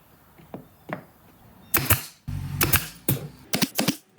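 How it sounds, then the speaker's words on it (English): A brad nailer fires into small wooden logs while building a log cabin bird feeder: a few faint taps followed by several sharp, loud pneumatic snaps in quick succession, close and dry. "I positioned a log on the short end and attached it with my brad nailer."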